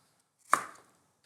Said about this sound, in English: Again, slicing into very similar shapes and sizes, so I might slice it lengthways.